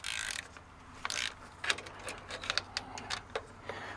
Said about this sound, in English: there's a special socket for taking these fuel lines out